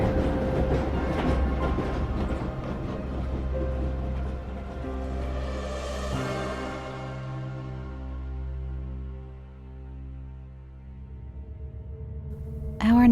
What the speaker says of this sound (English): the train chugged off again